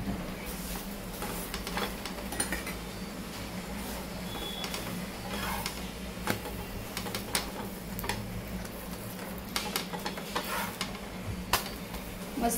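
A fasting chapati roasting on a pan, a quiet steady background of soft sizzling and faint scraping or pressing noises with small ticks, close and continuous without speech.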